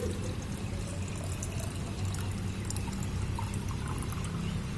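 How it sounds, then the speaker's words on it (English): Clear water being poured into a jar, a steady close trickle and splash running for several seconds without speech. "Okay, now I filled this jar with clear water"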